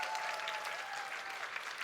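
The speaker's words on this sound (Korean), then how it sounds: "뜨거운 박수 부탁드립니다." A crowd at a party founding convention applauds with a dense, even wash of clapping, steady and fairly distant, held at low volume throughout.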